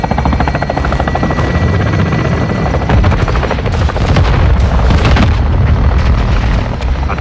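Requested fire strike explosions in the Call of Duty: Modern Warfare II military campaign, heavy continuous booms and rumbling blasts layered with helicopter rotor drone and scattered gunfire, loud and dense throughout.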